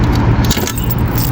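A car key jangles and scrapes as it is worked free from a car door lock, a brief close metallic rattle over a steady low rumble.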